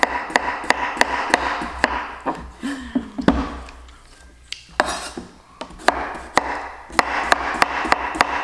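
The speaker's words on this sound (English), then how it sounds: "It just needs chopping away." A knife chops cucumbers on a board in quick, rhythmic, close-up strikes, with a short pause partway through before the steady chopping resumes.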